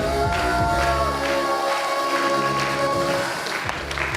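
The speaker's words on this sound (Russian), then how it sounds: "Громче, громче, громче аплодируем." Audience applause at a KVN comedy contest final, a dense continuous clapping from a large crowd in a hall, loud and steady throughout.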